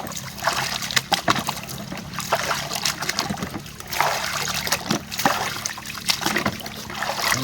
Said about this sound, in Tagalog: Tapos ay banlawan natin.